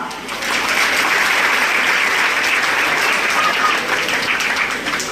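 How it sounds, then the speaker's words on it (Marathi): A college audience at the Padmashri Babasaheb Vengurlekar college function in Panad breaks into loud, sustained applause, a thick, even roar of clapping that swells in quickly and holds for several seconds. "पहिले स्वतःसाठी जरा टाळ्या वाजवा"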